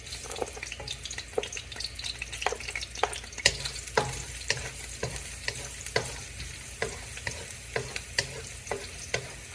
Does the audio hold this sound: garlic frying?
yes